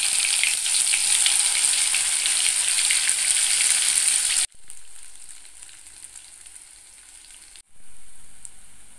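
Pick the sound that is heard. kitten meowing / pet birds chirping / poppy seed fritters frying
poppy seed fritters frying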